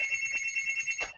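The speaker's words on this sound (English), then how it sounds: "Ah, the phone's ringing." A telephone rings with a steady electronic trill, two bright repeating tones pulsing several times close by and loud, with no talking over it before it cuts off.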